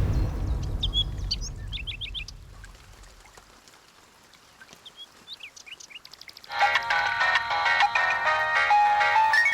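A phone's ringtone plays loudly and steadily for a few seconds after a stretch of soft chirpy tones and quiet ambience, signalling an incoming call in a Tamil TV serial scene.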